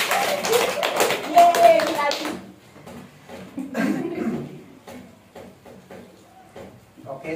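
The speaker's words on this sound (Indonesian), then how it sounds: "Tepuk tangan untuk Gilanti." A small group in a classroom counseling session claps for a participant, a short burst of close, fairly loud hand claps over the first two seconds, then fading into quieter room noise with scattered voices.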